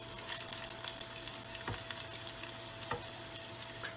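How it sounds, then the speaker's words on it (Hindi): Garlic and a dried red chilli frying in hot tadka oil for dal, giving a steady, close sizzle with a couple of brief stirring clinks and no talking. "तो अभी ये लहसुन गोल्डन ब्राउन हो चुकी है, हमारी मिर्ची भी गोल्डन ब्राउन हो चुकी है।"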